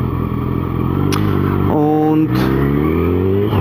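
A car driving toward a hardware store, its engine hum steady and fairly loud throughout, with a brief shift in pitch midway; a voice speaks briefly over it.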